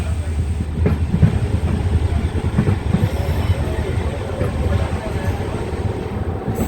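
A passenger train on the Mayiladuthurai to Karaikudi line runs along the rails, with a steady loud rumble and faint rhythmic clatter heard from inside the carriage.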